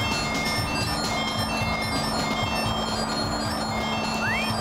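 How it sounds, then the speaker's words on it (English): Boss-battle music and laser effects from the Prawn fight in SpongeBob SquarePants: Battle for Bikini Bottom, a steady, dense synth loop with bright tonal lines, plus a short rising laser-like sweep near the end. "I love the music that plays when prawn shoots his laser thing."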